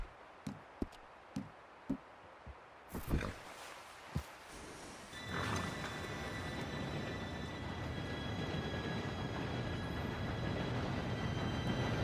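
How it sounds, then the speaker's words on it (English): Scattered sharp taps and knocks give way to a steady rumbling rush as a train arrives in Red Dead Redemption 2, building midway and continuing loud and constant to the end. "Train should be here any minute"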